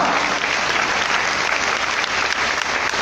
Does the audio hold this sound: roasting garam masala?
no